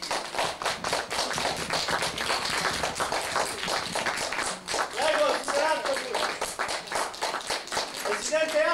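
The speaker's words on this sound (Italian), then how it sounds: "Accogliamo con un bel applauso il presidente Antropos e la First Lady." An audience claps in welcome for a guest, loud and close, rhythmic and sometimes in unison, while voices talk and call out over it throughout.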